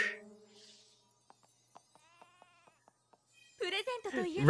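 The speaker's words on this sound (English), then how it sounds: "The sheep is there as well." A cartoon sheep gives a short bleat at the very start that trails off, followed by near silence with faint soft tones, then someone speaks at the end.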